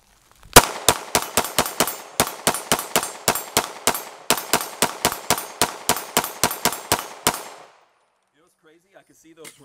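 Rapid string of about twenty-five sharp 9mm pistol shots from a PSA Dagger, fired close and loud in a steady, quick rhythm, then stopping abruptly into near silence with faint distant voices.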